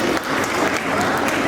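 Audience applause at a Republic Day school event, dense continuous clapping from a crowd, loud and close throughout the short moment.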